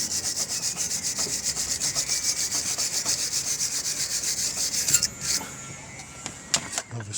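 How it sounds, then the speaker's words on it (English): A wire brush scrubs the brake hub surface of a 2013 Ford Ka/Fiat 500 in fast, steady back-and-forth rasping strokes, close and loud, then stops, leaving a few scattered clicks and knocks. "You want to just get a wire brush, just make sure the surface is smooth"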